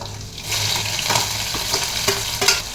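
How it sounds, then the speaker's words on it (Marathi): Garlic frying with cumin seeds in a pan, a steady soft sizzle with brief stirring scrapes and small pops, close by and without talk. "इथे घेतलेला लसूण घालूया. लसूण चांगला परतला की बारीक केलेला कांदा आणि टोमॅटो घालायचा."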